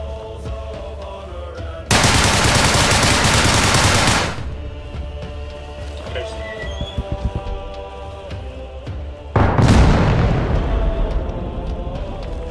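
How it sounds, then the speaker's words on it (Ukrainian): Loud bursts of explosions and rapid gunfire from the Arma Reforger war game, two heavy blasts a few seconds apart with scattered shots and clatter between them. "Я тільки почув вибух"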